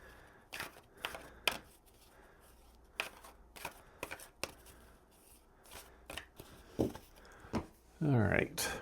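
Board game cards from the Bloodborne board game are shuffled in a series of short, brisk riffling bursts at moderate volume. A voice speaks briefly near the end.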